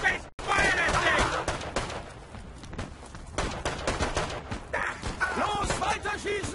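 Gunfire rattles through a video game battle in long, rapid bursts of automatic fire mixed with single shots. It is loud and close, with a brief gap near the start, while soldiers shout beneath it.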